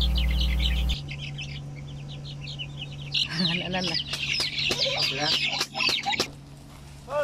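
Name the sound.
chickens clucking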